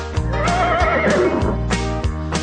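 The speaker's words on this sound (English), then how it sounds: "the horses go as they gallop around the farm" A horse on a farm gives a loud, close whinny that rises and shakes and then falls away, with a few thudding hoof beats around it and no voices.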